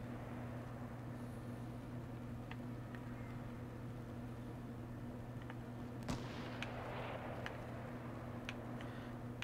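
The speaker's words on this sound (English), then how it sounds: "Okay, I hear a bunch of gunshots." Faint, scattered gunshots pop in the distance over a steady low hum in Fortnite Battle Royale, a few isolated cracks and a small cluster later on.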